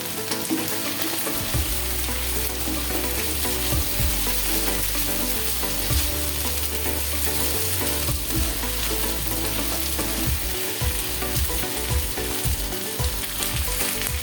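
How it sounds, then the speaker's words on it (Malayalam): Chicken pieces fry in a pan, giving off a steady, even sizzle all through, with occasional soft stirring scrapes underneath. Nobody talks, and the sound stays fairly quiet and close. "ചിക്കൻ പീസുകൾ തിരിച്ചിട്ടു വീണ്ടും അഞ്ച് മിനിറ്റ് കൂടി ഇതിൽ കിടന്ന് വേവണം"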